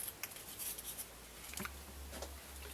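Small pointed scissors punch holes in a cardboard paper towel roll to make a bird toy, giving faint, sparse snips and scratchy pokes close by in a quiet room.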